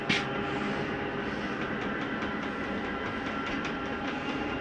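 Slide-out mechanism on a 2021 Catalina Legacy 343BHTS travel trailer retracting, a steady mechanical rumble and grinding hum with faint rattling clicks, close and continuous with no voices.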